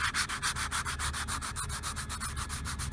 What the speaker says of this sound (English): first I've got to do a fair bit of sanding now the mast is off